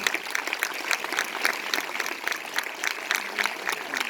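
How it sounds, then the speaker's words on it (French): A cinema audience at a film premiere in a Gaumont multiplex applauds the director, with dense clapping and distinct individual claps that rise and fall at a moderate level throughout. "donc si ça vous a plu, vous pouvez l'applaudir."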